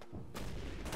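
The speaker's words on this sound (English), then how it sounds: "That was a good grenade." A grenade explodes in a military video game, a loud, broad blast with a rumbling tail that fills the whole second and swells again near the end.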